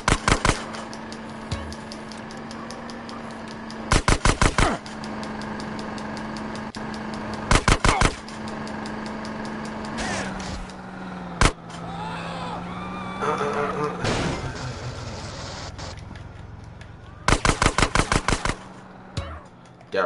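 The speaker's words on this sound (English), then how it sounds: "Oh, crap! they still shooting." Rapid bursts of automatic gunfire in a video game, loud repeated volleys of several shots each recurring every few seconds, with single sharp shots between over a steady engine-like hum and game ambience, while someone talks.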